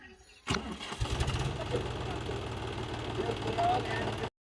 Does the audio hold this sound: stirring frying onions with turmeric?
no